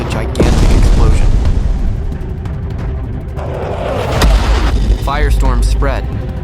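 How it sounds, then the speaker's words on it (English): A roughly 10-kilometer-wide asteroid strikes Earth in a gigantic explosion, rendered as a loud, deep rumbling boom. A sustained roar follows, with further heavy blasts swelling near the end. "When it hit Earth, there was a gigantic explosion."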